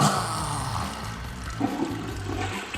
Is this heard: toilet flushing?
yes